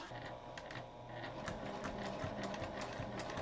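A sewing machine top-stitches a fabric hip bag in a quiet, steady, fast mechanical whir with small rhythmic clicks, heard alone.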